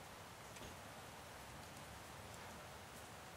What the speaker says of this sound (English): It's raining now as well.